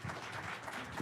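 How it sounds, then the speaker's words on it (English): A short burst of applause for a third-place honoree at a county commissioners' business meeting, steady and full across the whole moment with no talk over it. "All right, big round of applause."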